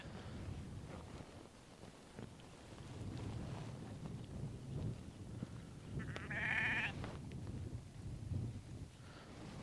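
Dorper ewes in an open field give a single clear bleat partway through, over steady wind rumble and outdoor noise.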